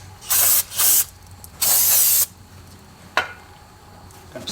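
Brake cleaner is sprayed from an aerosol can onto a brake rotor in three loud, close hissing bursts, two short and one longer, followed by a quick sharp click.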